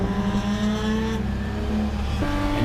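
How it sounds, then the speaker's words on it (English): A PRO3 race car roars past on the track at Pacific Raceways, engine tone sliding down as it goes by, loud and close with steady engine drone throughout. "Jack Houlihan slides by as well"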